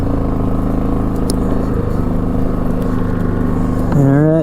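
A 2002 Yamaha Grizzly 660 ATV's engine runs close and loud at a steady drone while driving, then revs up sharply near the end as it picks up speed.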